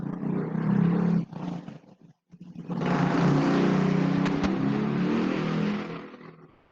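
A motorcycle with a loud, throaty exhaust roars past nearby, its engine note swelling into a sustained, powerful rumble. The roar dips briefly, then holds strong for several seconds before fading out.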